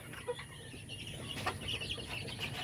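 Native chickens cluck softly nearby in scattered short calls over a steady low hum, with no talking.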